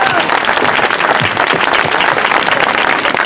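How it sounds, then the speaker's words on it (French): A crowd at a French cantonal election campaign meeting applauds a guest, loud continuous clapping close by, with some voices mixed into the noise. "je souhaiterais qu'on l'applaudisse"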